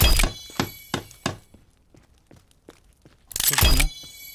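A stone axe strikes a tree in The Forest, giving several hollow woody thunks in quick succession, a few softer taps, then a final heavy crunching impact, each hit close and distinct against near silence.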